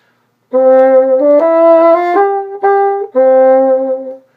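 A bassoon plays a short, plain melodic phrase of a few sustained notes from a Weissenborn etude, solo and close, with no embellishments.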